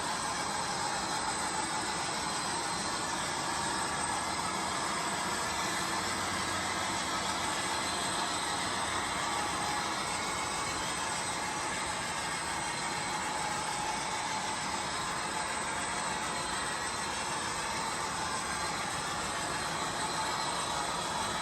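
A model Cavalex Class 56 locomotive hauls a train of 22 PTA wagons, five of them loaded, producing a faint, continuous rolling hiss and hum that stays even and unbroken throughout.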